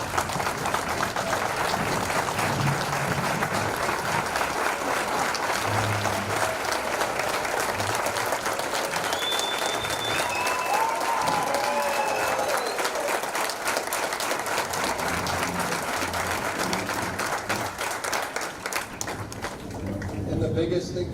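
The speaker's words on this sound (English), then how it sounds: "So round of applause for them again." Sustained applause from an alumni awards audience, thick and continuous clapping from a large crowd filling the whole stretch, with a voice briefly audible over it.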